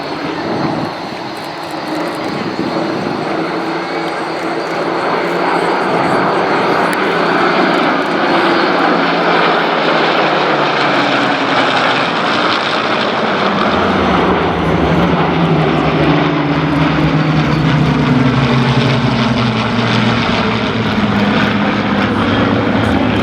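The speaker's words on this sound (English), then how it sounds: "Flying, obviously, Spitfires, Hurricanes, also the DC-3 Dakota," Propeller aircraft at the Biggin Hill Festival of Flight airshow, with heritage types such as Spitfires, Hurricanes and a DC-3 Dakota, producing a loud, sustained engine roar that swells and shifts in pitch as it passes overhead.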